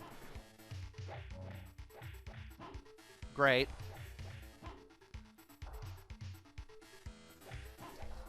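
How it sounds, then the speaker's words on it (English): A brief, sharp bark from a dog in the SNES game Pirates of Dark Water cuts through the game music, with someone talking throughout. "Another dog."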